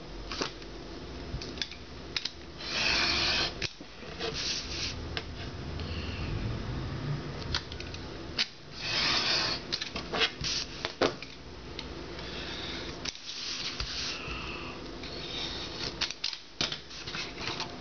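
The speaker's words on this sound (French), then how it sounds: "Ensuite on va couper la petite bande. Là on va utiliser la règle pour une belle coupe." A strip cut from a paper envelope along a ruler makes intermittent crisp paper cutting and rustling with small taps and clicks, fairly close and quiet, with no talking.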